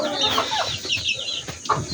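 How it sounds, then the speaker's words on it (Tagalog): Farmyard chickens, including laying hens, cluck and squawk in short overlapping bursts, close and fairly loud, with rustling and low outdoor background noise between the calls. "Ayan yung mga manok natin"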